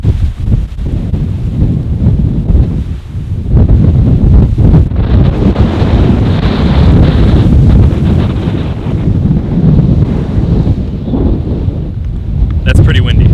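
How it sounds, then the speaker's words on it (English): Super Typhoon Chaba's strong wind blasts outdoors on Okinawa at night, a loud, constant roar buffeting the microphone, with heavier gusts surging partway through. "That's pretty windy."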